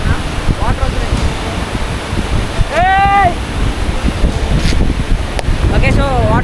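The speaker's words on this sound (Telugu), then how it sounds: "సో వాటర్ వస్తున్నాయి" Sea waves wash onto a peaceful beach in Goa, a steady broadband roar with wind buffeting the microphone, while a few distant gull-like calls cut through the surf.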